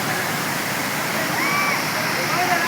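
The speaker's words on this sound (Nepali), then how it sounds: "This is the Jharna." Waterfall in Nepal roaring as a steady, dense broadband wash of falling water, loud and continuous throughout with no pauses.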